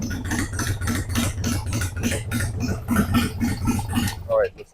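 A motorcycle engine fitted with an S&S Super E carburetor idles, still short of operating temperature. It makes a steady low, even throb that runs throughout, with someone talking over it nearby.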